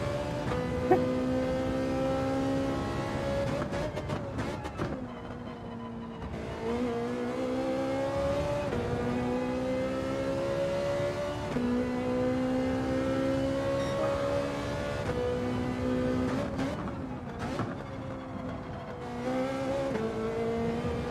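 A Ferrari race car engine in the racing game Gran Turismo 7 drones loudly and steadily throughout, its pitch repeatedly climbing under acceleration and dropping sharply at each gear change, with no one talking.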